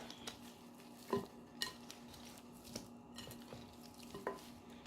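Seasoned chicken pieces are tossed and stirred in a bowl, making soft, close wet shuffling with a few light clinks against the bowl at irregular moments, in an otherwise quiet room.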